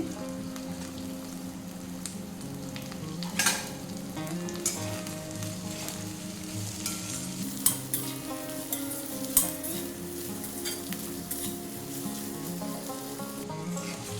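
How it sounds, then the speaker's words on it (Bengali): Chopped onion and green chillies fry in a pan, a continuous close sizzle broken by a few sharp scrapes and clinks as a spatula stirs, with no voices. "তো দেখুন পেঁয়াজগুলো বেশ ভাজা ভাজা হয়ে গেছে"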